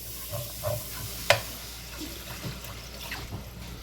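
Water pours into a sizzling flour roux for gravy, giving a steady close frying hiss with stirring scrapes and one sharp splash near the start.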